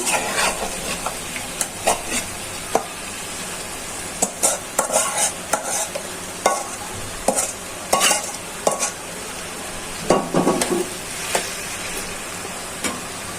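Beef tripe sizzles steadily in a hot pan while a utensil scrapes and stirs it in repeated sharp strokes, close and fairly loud.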